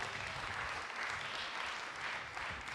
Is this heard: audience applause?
yes